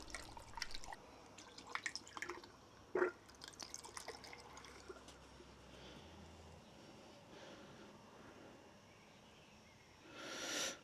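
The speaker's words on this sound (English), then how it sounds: "So I'll get some oil in." Motorex motor oil poured into a Honda Africa Twin motorcycle engine during a rebuild, heard as a quiet liquid glugging and dripping with a few clinks, then a louder rush near the end.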